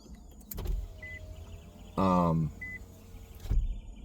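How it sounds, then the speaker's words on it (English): A power window motor whirs for about half a second as the glass closes, framed by a couple of soft thumps and faint chimes inside a car. "Maybe I should put the windows up."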